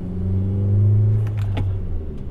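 A Chevy Sonic fitted with a ZZP air-to-air intercooler accelerates hard on a pull, its engine giving a loud, steady low rumble from close by, and a few brief higher noises come near the end.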